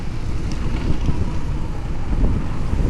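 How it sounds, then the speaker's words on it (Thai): Wind blows outdoors on an evening street in Vientiane, Laos, a loud, steady rumble of microphone buffeting with small gusts throughout. "ลมพัด"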